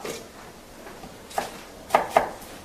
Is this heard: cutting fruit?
yes